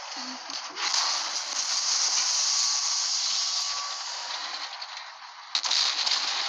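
A loud, sustained burst of gunfire noise, hissy and continuous for several seconds, with a sharp crack near the end; no talking.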